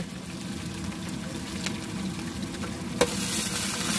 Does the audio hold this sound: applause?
no